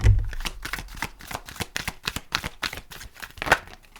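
Oracle card deck shuffled by hand, a steady run of crisp riffling flicks and soft slaps repeating close to the microphone, with no talking.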